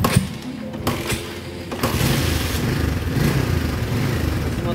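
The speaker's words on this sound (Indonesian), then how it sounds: "Kita nyalakan motor." A Honda CB150R motorcycle engine catches after a few start clicks and settles into a steady, close idle that runs continuously to the end, with no talking over it.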